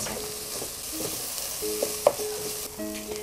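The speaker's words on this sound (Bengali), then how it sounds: "পেঁয়াজটা যতক্ষণ সিদ্ধ না হবে ততক্ষণ আর কি আমরা এটাকে নাড়তে থাকব" Onions are stirred in a cooking pan as they soften, a constant hiss of frying with scraping strokes and one sharper knock of the utensil, close and without speech.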